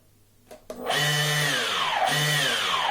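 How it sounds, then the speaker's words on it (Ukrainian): The propeller motor of a remote-controlled fishing bait boat whirs up after a couple of clicks, then spins loudly and steadily with a slight dip in pitch, close by. "Як ми бачимо, гвинт крутиться."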